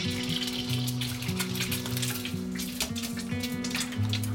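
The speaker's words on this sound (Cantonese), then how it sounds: "今次我成隻打落去。" A whole egg fries in a hot wok of oil for Yangzhou fried rice, giving a steady, dense sizzle that runs throughout beneath soft background music.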